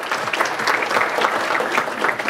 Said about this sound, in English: Give them a massive, massive round of applause.